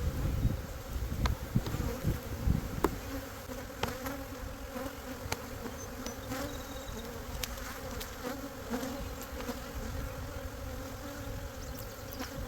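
Honey bees in an opened hive give a dense, continuous buzz, with individual bees flying close past in sharper passes.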